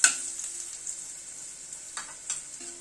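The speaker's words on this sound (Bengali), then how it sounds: "আলুটাকে দিয়ে আগে একটু হালকা নাড়াচাড়া করে নিচ্ছি।" Potato pieces get a light stir in a hot pan of oil with fenugreek seeds, the start of a taki fish curry, giving a soft sizzle and a few gentle scraping clinks of a spatula, quiet and close.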